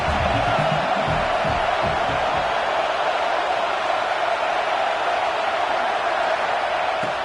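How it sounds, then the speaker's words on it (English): Loud home crowd at a college football game, a dense, continuous roar of many voices filling the stadium, steady and unbroken with faint cheers inside the wash of noise. "Man, this crowd really affected the football game."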